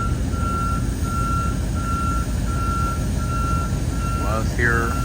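A truck's reversing alarm at an airfield beeps in a steady, regular series over a low engine and ambient rumble. A brief voice-like sound rises near the end.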